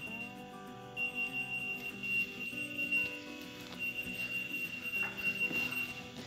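Faint, steady high-pitched beeping from a whistle-activated keychain key finder in another room, sounding continuously under muffled room noise and soft clattering.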